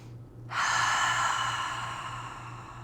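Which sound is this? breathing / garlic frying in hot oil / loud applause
breathing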